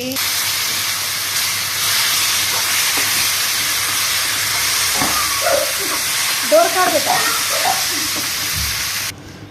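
Spices tempering in hot oil over a cooked tomato pickle make a steady, fairly loud sizzling hiss that holds through the whole stretch and cuts off abruptly at the end.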